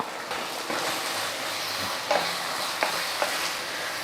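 Steady frying sizzle of spices sautéing in a pan, with a few soft scraping stirs of a spatula breaking through the hiss.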